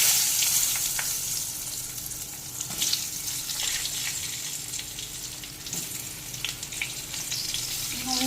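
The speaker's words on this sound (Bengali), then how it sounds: "ওই তেলেই দিয়ে দিলাম ফোড়নের জন্য কালো জিরে আর আগের থেকে আলু বেগুন কেটে ধুয়ে পরিষ্কার করে রেখেছি সেইগুলোও দিয়ে দিচ্ছি" Cut potatoes and eggplant go into hot oil with black cumin seeds for a Bengali hilsa curry, producing a loud, close, continuous sizzle and spatter with occasional stirring knocks and no talking.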